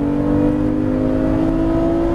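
A Porsche GT3 RS engine revs steadily at high power on a race circuit, a sustained droning roar with a rising tone as it accelerates, loud and close.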